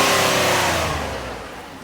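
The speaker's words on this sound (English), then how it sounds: "I'm going to rev it up so you can hear the engine" A 2019 Ford Explorer Police Interceptor with collision damage revs its engine on a lot, a loud rising roar that eases down toward idle over about two seconds, close and without talk.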